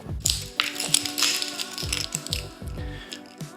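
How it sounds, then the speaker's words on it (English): A bike stem is pushed down onto the fork of a Magnum Pilot hub-drive e-bike, giving a series of close, sharp metallic taps and clicks in an irregular rhythm over a faint background hum. "Then we slide our stem onto our fork, making sure to hold the fork so that it doesn't drop out of the bike while we're pressing down."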